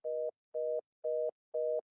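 Telephone tone after a dropped call: four identical beeps in an even rhythm, each about a quarter second with equal gaps, clear and alone.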